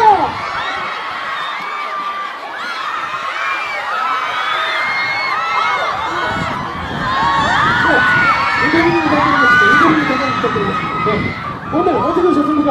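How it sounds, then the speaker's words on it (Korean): A crowd cheers and shouts at a red carpet arrival at a Korean pop culture and arts awards ceremony, with excited high-pitched fan screams swelling into a steady roar across the whole stretch. "여러분들 박수 주세요."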